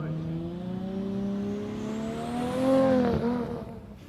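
A Toyota Corolla drag car revs hard at Warwick Dragway, its engine note climbing steadily in pitch as it accelerates and pulls away, loud and sustained with a brief drop near the end.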